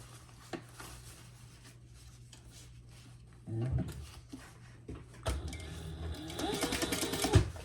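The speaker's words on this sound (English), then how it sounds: "we're going to top stitch on either side of that seam, kind of in a tunnel" A sewing machine top-stitching along both sides of a zipper seam on a fabric pouch, starting with a short run and then a longer, louder steady whirring burst near the end, with soft handling rubs between.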